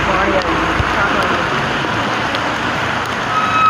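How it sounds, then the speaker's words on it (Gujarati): Heavy rain in Visnagar, Gujarat, pours steadily as a dense, loud hiss, close and constant throughout with no break. "અહીં વિસનગરમાં ફૂલ વરસાદ છે"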